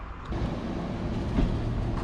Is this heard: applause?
no